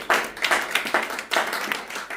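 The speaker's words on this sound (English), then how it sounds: "So please give them a round of applause for all the work they've done and energy." Light applause for children at a school celebration marking their accomplishments, a smattering of hand claps in loose, uneven bursts, fairly close and moderately loud, with no voices over it.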